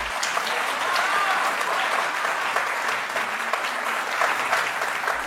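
Audience applause in a television courtroom-style studio show, a dense, steady wash of clapping from a seated crowd lasting throughout at an even, loud level with no speech.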